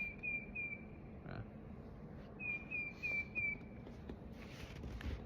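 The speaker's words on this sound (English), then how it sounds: "I don't know what bird that is I'm hearing." A bird sings from the bare winter trees nearby, repeating a clear high whistled note in two bursts over steady outdoor background noise, with no talking.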